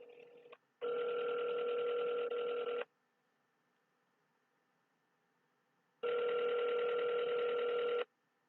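A telephone line gives long steady tones while a call is being placed, two sustained beeps of about two seconds each separated by silence, clear and close.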